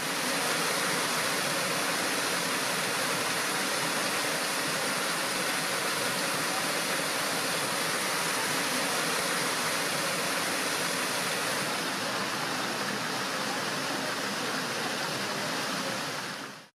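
Flowing water at the Rudăria water mills, a loud, steady broadband rush like a stream or small waterfall, continuous and close, with no voices over it.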